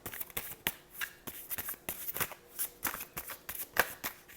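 A tarot deck is shuffled by hand, with quick, close, crisp riffling bursts and card slaps coming in a rapid, uneven rhythm at low volume.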